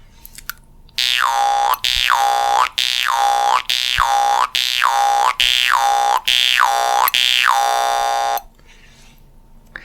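Jaw harp (mouth harp) played with a nya tongue articulation: seven loud, evenly spaced twangy notes, each with a vowel-like sweep, repeating steadily and close up with no talking.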